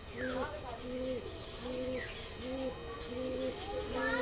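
Green-eyed Madrasi pigeons at Surjapur coo in a steady repeating rhythm, soft rolling calls recurring about every half second, close by over faint background noise.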